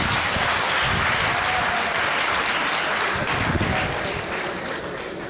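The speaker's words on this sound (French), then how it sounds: "Applaudissez, monsieur le maire" Crowd applauding the mayor at a political campaign launch event for a PDCI-RDA candidate, loud dense clapping from a large gathering held steady for several seconds before easing slightly.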